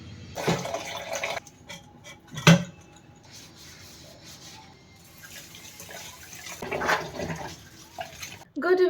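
Small pots and utensils washed at a kitchen sink, with running water, splashes and clinks coming in bursts between quieter stretches and a voice occasionally audible.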